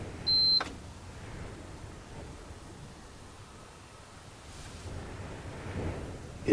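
A 12V espresso machine in a camper van gives one short, clear electronic beep near the start, followed by quiet room noise and faint handling sounds.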